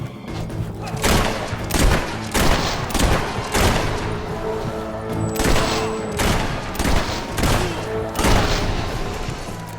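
Gunfire in the video game Fable 3, a battle of loud, booming shots in a repeated volley, roughly one every second, over a dense background of game sounds.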